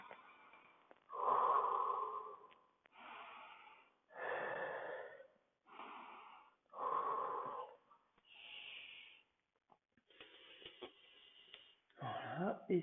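Slow, forceful exhalations during a Pilates exercise on a mat, a series of about eight long breathy puffs separated by short pauses, close and fairly loud with no talk.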